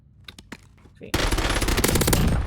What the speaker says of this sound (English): the gun actually shoots extremely fast